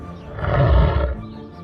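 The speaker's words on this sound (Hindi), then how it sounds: "उसने देखा कि कुएं में शेर भी उसे देखकर दहाड़ रहा है।" A lion gives a single deep roar in a cartoon story for children. It swells quickly, peaks loudly and fades within about a second.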